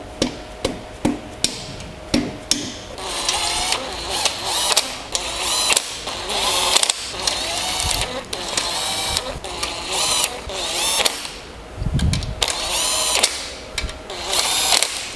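Power tool and ratchet driving bolts on a hybrid BMW M42/M44/M47-B21 engine build with Toyota throttle bodies and K20 pistons: repeated short bursts of whirring and clicking with sharp knocks between, close and loud, with occasional talk.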